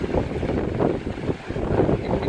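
Gusty wind on Bournemouth beach buffets the microphone in rough, uneven bursts, a steady outdoor roar with no voices.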